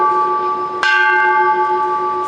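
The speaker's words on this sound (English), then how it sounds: "rang the bell to spread positive energy" A ceremonial bell rung at a Peace Day gathering at New York City Hall gives a single loud strike, followed by a long, steady ringing tone that sustains clearly, with no talk over it.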